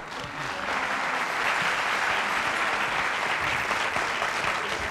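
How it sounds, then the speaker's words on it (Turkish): Dense studio audience applause on a Turkish television variety show, a continuous wash of clapping that swells slightly and holds steady, fairly loud and without talk. "Bütün alkışlar, bütün alkışlar değerli sanatçımız, değerli dostumuz, değerli arkadaşımız Fatih Hürek için."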